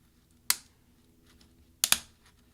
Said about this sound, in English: that's going to separate the plastic key from the plastic scissor hinge underneath it